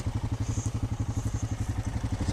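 2018 Honda Rancher ATV engine idling up close, a steady rapid thumping putter with even pulses, a faint whine above and a brief clatter near the end, no talking.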